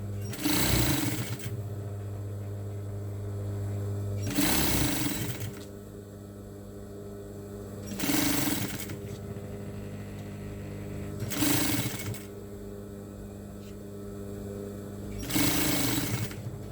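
A sewing machine stitches fabric binding onto table mats in five loud, even bursts of rapid whirring, each separated by a quieter pause.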